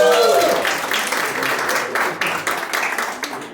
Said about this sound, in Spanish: Otro aplauso muy fuerte para Gerardo Rodríguez Castañeda